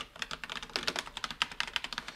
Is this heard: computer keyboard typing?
yes